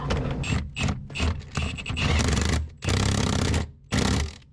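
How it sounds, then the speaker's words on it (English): Ratchet wrench tightening E20 nuts on a Chevrolet Silverado seat, giving loud, close bursts of rapid clicking in several separate runs with short pauses between them. "Once you get them down in there, you can go ahead and get them tightened down."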